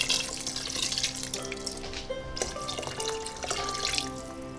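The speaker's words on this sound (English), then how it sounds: "we're going to add water." Tap water pours into a cooking pot for one-pot ramen, a close, steady splashing stream with small drips and clinks, running unbroken for several seconds with no voices.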